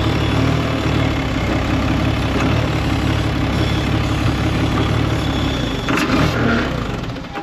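A small dump truck's engine runs steadily and loud at close range, then falters near the end as it stalls.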